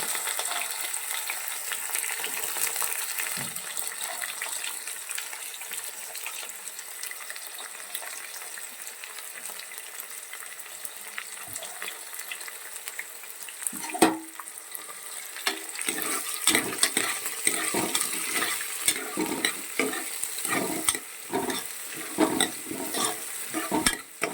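A large chopped onion frying in a pan for paneer ghee rice: a soft steady sizzle that grows livelier halfway through, with repeated scraping and tapping from stirring, close and alone.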